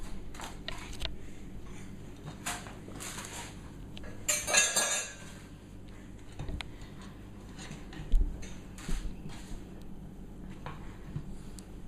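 Metal baking pan handled in a home kitchen while mandel bread is set back into it, scattered light clinks and taps with one sharper metallic clatter midway and a few knocks later.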